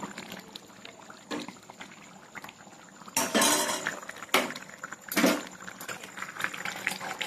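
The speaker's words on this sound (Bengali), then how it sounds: "একটু গরম জল দিয়ে দিলাম।" Hot water poured into a pan of chicken curry on the stove, with several brief splashing bursts of liquid against a soft background hiss.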